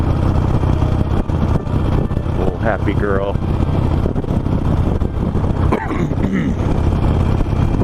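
A 17-year-old Harley-Davidson Nightster motorcycle chugs along steadily in fourth gear, its low engine rumble mixed with wind buffeting, while a rider talks over it.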